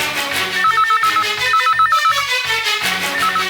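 A telephone ringtone plays loudly and clearly, repeating in a steady warbling pattern of rapid trilling bursts with short pauses between them.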